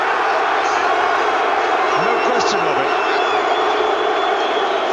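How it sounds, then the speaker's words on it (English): Stadium crowd at the 1995 Rugby World Cup Final between South Africa and New Zealand, booing the referee as a loud, continuous roar that runs throughout, with a commentator talking over it. "this crowd who cheered when he blew against Lumo is now booing him when he's given exactly the same decision out on the wing"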